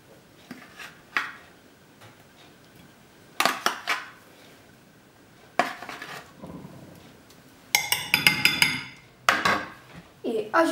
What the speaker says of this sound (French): Répartissez les framboises avec le plat de four.